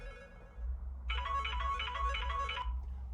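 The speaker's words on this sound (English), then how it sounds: "There's my phone." A phone ringtone rings out in a steady, repeating electronic tone pattern, fairly loud and close, lasting about a second and a half over a low background hum, with no talking.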